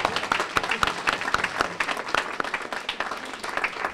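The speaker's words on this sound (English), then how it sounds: "we have a round of applause, come on." Audience applause at a student research day event, an energetic crackle of many people clapping steadily throughout, with scattered louder individual claps and no clear speech.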